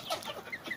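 An Arab chicken gives several short, faint clucks in quick succession, with no other sound nearby.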